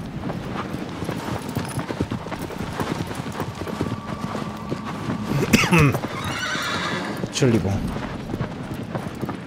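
A horse in the video game Shadow of the Colossus clip-clops steadily with close hoofbeats, and two sharp whinnies break out midway. Someone talks over the sounds throughout.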